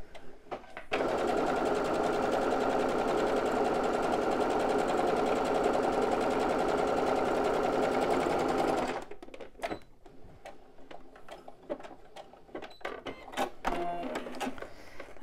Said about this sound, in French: on refait une petite surpiqûre